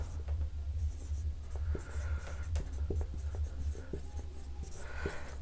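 Chalk or marker writing on a board during a Hindi-language geography lesson about the eastern hill ranges, a quiet run of short scratchy strokes and taps close by.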